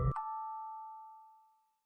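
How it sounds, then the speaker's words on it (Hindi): A single bell strike after a brief soft knock, its clear metallic tone ringing out and fading smoothly to silence over about a second and a half. "एक घंटी की आवाज"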